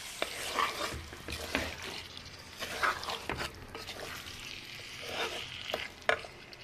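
Chicken liver curry with kandana kaya vegetable cooking in a pan, giving a steady soft sizzle with repeated scraping stir strokes and occasional clinks, close and moderate in level, no talking.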